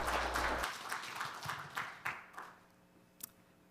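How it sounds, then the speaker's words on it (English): Applause from a forum audience greets a speaker: a short burst of clapping that thins quickly into scattered, distinct claps and fades to near silence, fairly quiet and heard from a distance in the room. "Let's give him a big round of applause."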